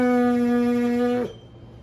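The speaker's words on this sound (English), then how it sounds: "is that you buzz your lips." A trumpet player's lips buzzing without a mouthpiece, giving one sustained nasal, reedy pitched drone that cuts off abruptly after about a second.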